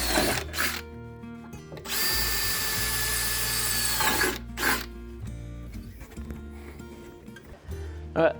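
A power drill whirs loudly for about two seconds while drilling holes on a boat, with shorter drill bursts before and after, amid quiet background noise and faint voices.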